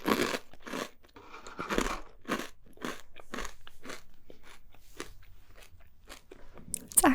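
A crunchy Trader Joe's snack is bitten and chewed close up, with a series of loud, crisp crunches at a steady rhythm and no talking.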